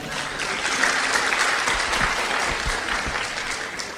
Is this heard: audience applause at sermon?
yes